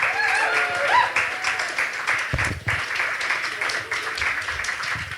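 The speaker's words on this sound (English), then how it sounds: "Let's give Nathan a little more of a round of applause." An audience at a Nerd Nite talk applauds with a dense wash of clapping and some cheering voices mixed in, steady across the clip.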